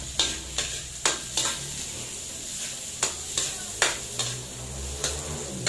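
Garlic and ginger sizzling in a hot pan for adobong pusit, a constant frying hiss broken by repeated sharp scrapes of a spatula stirring against the pan, close and even in rhythm.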